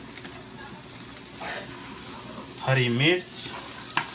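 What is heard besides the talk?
vegetables frying in a pan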